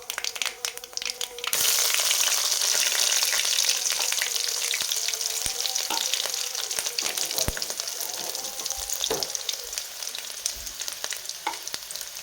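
Cumin, mustard seeds and garlic hit hot tempering oil for a spiced dal, bursting into a loud, dense, steady sizzle after a brief quieter start, with scattered crackles and pops throughout.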